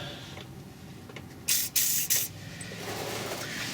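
Three short, sharp bursts of aerosol lubricant spray onto the rear shock bolts of a 1961 Ford F100 pickup, close and crisp over a quiet garage background.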